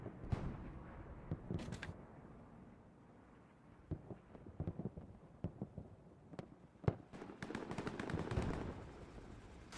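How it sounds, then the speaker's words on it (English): Scattered gunshots and short bursts of gunfire crackle in a large-scale 35 vs 35 multiplayer battle game, with sharp isolated shots and a denser flurry near the end, moderately distant and without speech. "Trey firing at something back there"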